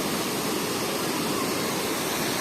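A small waterfall stream in Munnar, a loud, steady rushing and splashing of water, close and unbroken.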